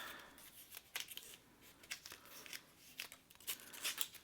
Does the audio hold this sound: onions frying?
no